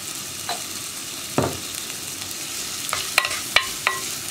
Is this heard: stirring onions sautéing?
yes